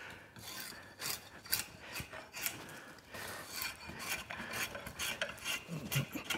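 A drawknife shaving wood for Windsor chairmaking gives a continuous rasping, scraping sound, made up of repeated close strokes that rise and fall steadily in loudness with no talk over them.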